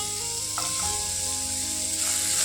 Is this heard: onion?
yes